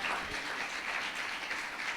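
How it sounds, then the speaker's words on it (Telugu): An audience claps loudly in a steady, dense burst of applause at a church sermon gathering, continuous for a couple of seconds with no pauses. "గట్టిగా చప్పట్లు కొడదామా?"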